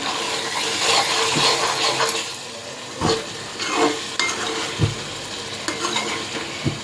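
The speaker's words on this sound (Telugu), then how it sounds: "అంటే ఇలా జాగ్రత్తగా కలపాలండి, లేకపోతే రొయ్యలు ముక్కల కింద విడిపోతుంది." Godavari-style raw prawn curry is stirred in a pan, a utensil scraping and knocking through a thick simmering sizzle in several separate strokes, close and fairly loud.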